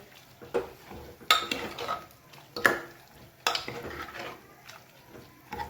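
Spoon stirring and scraping food in a pot on a gas stove at full flame, irregular clinks and scrapes with light sizzling underneath, fairly soft and close.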